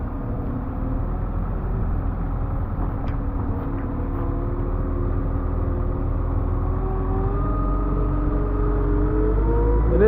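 A GIANT compact wheel loader works a pile while scooping into a triticale ag bag, its diesel engine droning steadily and close with rising, whining hydraulic tones as it pushes in, with no voices.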